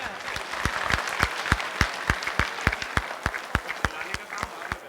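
Applause at a welcome during a club event at an eye camp in Berasia, heard as sharp, fairly evenly spaced claps over a steady crowd wash, loud and close, with no talk.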